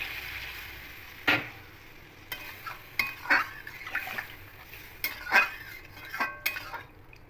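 A spoon stirs rohu fish curry in a pot just after water goes in, giving a few sharp scrapes and clinks against the metal with soft liquid movement between them, close and fairly quiet.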